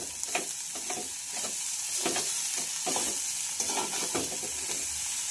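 Dried shrimp chutney with chili powder sizzles steadily in a pan, broken by repeated scraping strokes of a spoon stirring at an uneven rhythm, close and moderately loud, with no voices.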